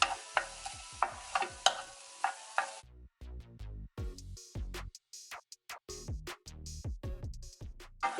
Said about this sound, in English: So I'm going to give this a quick stir.